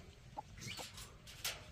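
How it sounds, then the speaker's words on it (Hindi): Chickens clucking at a village farm in rural India, several short distinct calls scattered over quiet background noise, fairly faint and moderately distant, with no talking. "यहाँ पे अलार्म की जरूरत नहीं पड़ती है, मुर्गा बोल देता है"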